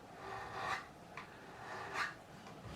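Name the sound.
beveled edge file filing a guitar fret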